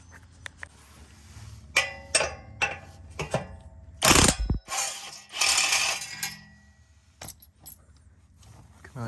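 Bolts being unscrewed during a 2J Racing midpipe install on an E210 Toyota Corolla: close, intermittent metallic ratcheting clicks, clinks and rattles in scattered bursts, with no talking.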